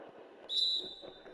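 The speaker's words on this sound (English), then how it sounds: "Whistle blows." Referee whistle in NBA 2K21 basketball gameplay, one sharp, shrill blast lasting about a third of a second over muffled arena crowd noise.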